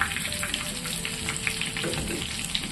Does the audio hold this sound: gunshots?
no